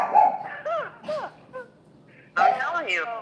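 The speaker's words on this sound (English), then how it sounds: "that dog starts barking crazy like that" A dog barks and yips excitedly in several rising, whine-like bursts, close by, with a short lull before a final flurry of barking.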